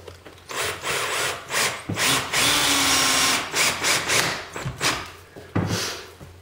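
Power drill driving a screw into a wall near a 2x4 cavity, loud and close, in repeated short whirring bursts with a longer sustained run in the middle, each ending abruptly.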